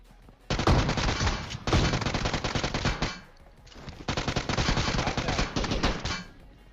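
UMP submachine gun fire in the PUBG video game: two long, rapid automatic bursts, loud and close, separated by a brief pause, with no voices.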